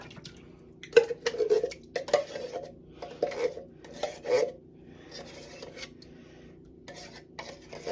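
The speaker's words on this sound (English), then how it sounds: "Stir with a wooden spoon." A wooden spoon stirring coquito in a pot, a series of soft scraping and knocking strokes in an uneven rhythm, fairly close and quiet, with pauses between.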